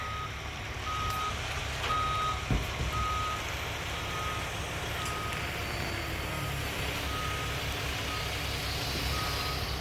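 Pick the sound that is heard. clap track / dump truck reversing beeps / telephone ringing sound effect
dump truck reversing beeps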